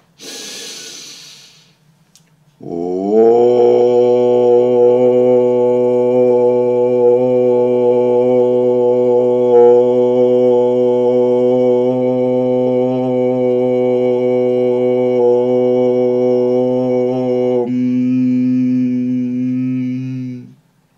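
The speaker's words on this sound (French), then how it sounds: "nous allons faire 3 ohms, en reprenant notre souffle entre chaque ohm" A group chanting a single long sustained om during collective guided meditation, a steady harmonic drone held for about fifteen seconds after a breath, then shifting slightly before fading out.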